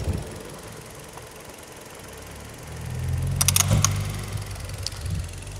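A used 2014 Hyundai Accent idles at an outdoor used-car market, a low, steady engine rumble that swells slightly midway, with a brief metallic clatter partway through.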